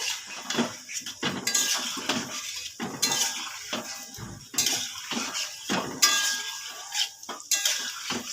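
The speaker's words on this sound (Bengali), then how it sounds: "এবার একটু নেড়ে চেড়ে নেবো" Chicken pakoras frying in oil are stirred with a metal spoon, giving repeated clinks and scrapes against the pan in uneven bursts, close by with no voices.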